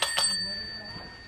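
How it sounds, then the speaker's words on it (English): A bicycle-style bell pressed twice in quick succession during a music quiz game, bright metallic rings that linger and fade over about a second, close and clear. "When you hear the music stop, you guys press the bell."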